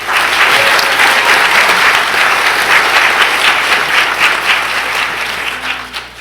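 Loud, dense applause from a school board meeting audience honoring student seniors, continuous and steady for several seconds before tapering slightly at the end.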